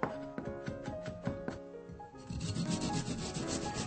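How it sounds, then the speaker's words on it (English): Daikon radish is rubbed over a grater for ponzu sauce, close, quick rasping strokes in a steady rhythm that turn into a denser, continuous scraping, with no talk. "Grate the daikon radish to add to ponzu sauce."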